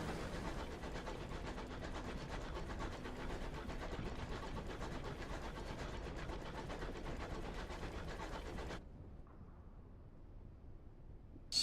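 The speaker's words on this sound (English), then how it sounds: "space locomotive" The engine of a space locomotive in the video game Sunless Skies gives a steady, dense mechanical rumble with faint rhythmic chugging, continuous and fairly loud, then cuts off abruptly to a quiet hum near the end.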